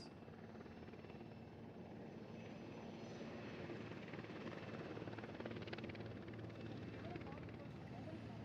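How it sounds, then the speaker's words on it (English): Sea King Mark 42 Bravo anti-submarine warfare helicopters fly overhead at a military Beating Retreat and Tattoo ceremony, a steady dense rotor and engine roar holding throughout at moderate distance. "Next in line are the hulking giants, the Sea King Mark 42 Bravo anti-submarine warfare helicopters from INAS 330"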